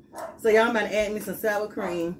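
Dogs bark and yip in a home kitchen during a nacho cooking session, a few short barks mixed in with someone talking nearby.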